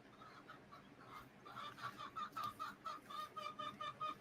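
Hens in a backyard urban homestead chicken coop cluck in a quiet, rhythmic series of short calls that grows a little more insistent, heard faintly at a moderate distance.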